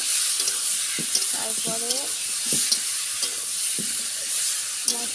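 Turmeric spice paste thinned with a little water sizzles and bubbles in a pan while it is stirred, with periodic scraping clicks. Someone speaks briefly over it.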